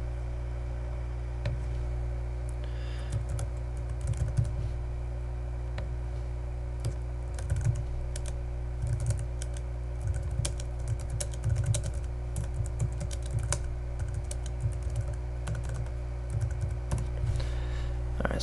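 Typing on a computer keyboard, irregular bursts of light key clicks and taps at close range over a steady low hum, with short pauses between runs of keystrokes.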